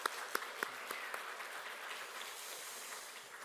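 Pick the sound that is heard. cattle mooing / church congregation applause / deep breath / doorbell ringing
church congregation applause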